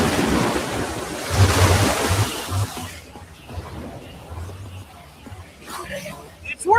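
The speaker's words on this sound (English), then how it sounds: "I don't know how much water this thing is going to kick out" Water gushes out of a machine in the video game Minecraft Story Mode as a loud, broad rushing roar that cuts off abruptly partway through, leaving quieter splashes and movement.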